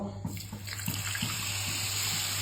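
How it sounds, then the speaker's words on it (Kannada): A glass of water poured into a pan to make sugar syrup for gulab jamun: a steady, close splashing pour that runs continuously, with no talk. "ಒಂದು ಗ್ಲಾಸ್ ನೀರು"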